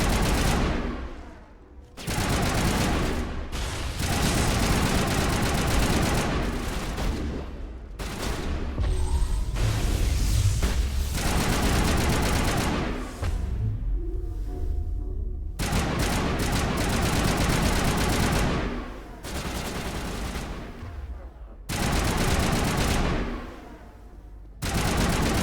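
Sustained bursts of automatic gunfire rattle through a Mass Effect firefight, with dense overlapping volleys and brief lulls between clusters, loud and close throughout.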